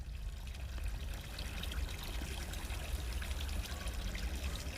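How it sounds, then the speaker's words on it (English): A running tap in a horror video game, heard as a steady, quiet stream of trickling water with a low rumbling background, continuous and unchanging throughout. "this tap ain't supposed to be on"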